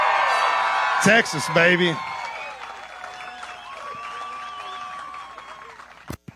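Big crowd at a bass fishing tournament weigh-in at Lake Fork cheering and applauding loudly, then settling into quieter background murmur while someone speaks over the noise.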